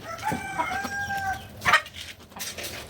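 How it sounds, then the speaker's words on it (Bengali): Several chickens cluck and squawk close by while being fed, overlapping calls with a few sharper bursts, no talking. "আমি প্রথমে আমার বড় মুরগিগুলোকে খেতে দিচ্ছি"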